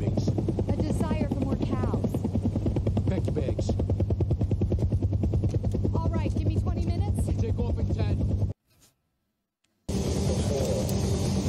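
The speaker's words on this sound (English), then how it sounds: "Okay, just a helicopter." A helicopter's rotor throbs loudly and steadily in a scene from the film Arrival, continuous chopping under some voices before cutting to silence and then resuming.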